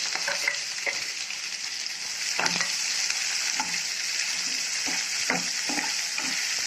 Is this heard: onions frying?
yes